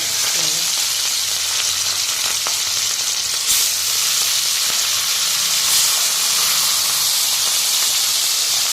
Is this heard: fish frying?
yes